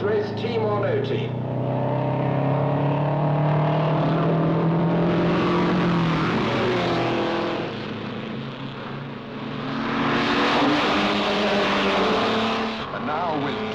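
Racing cars roar past in a 1954-era road race, engines rising and falling as they close in and sweep by, with a commentator's voice running over the engine noise throughout.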